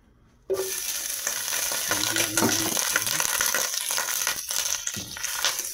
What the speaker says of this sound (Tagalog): mainit na yung kasirula na ating paglutuan. Maglagay muna tayo ng konting olive oil guys